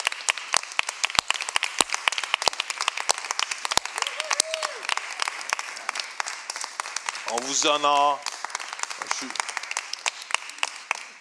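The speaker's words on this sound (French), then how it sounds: "un long applaudissement" Church congregation giving a long, sustained round of applause, dense steady clapping filling the room, while a voice speaks briefly over it.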